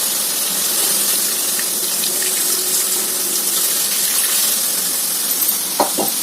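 Water pours steadily into a pan during home cooking, a continuous close gushing splash that holds evenly, followed by a couple of sharp clinks of cookware near the end.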